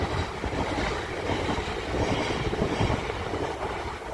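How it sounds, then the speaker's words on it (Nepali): A train passes near a nursery farm with a steady, fairly loud rumble and faint rhythmic clickety-clack of wheels on rails, continuous throughout and heard without any speech. "त्यस्तो नदेखेका ट्रेन हेर्नु न"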